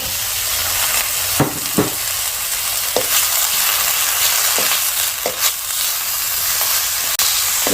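Pork stir-frying in a hot pan, a steady loud sizzle with several sharp scrapes and clanks of a spatula stirring the meat at irregular intervals.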